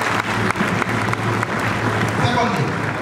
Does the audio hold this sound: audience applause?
yes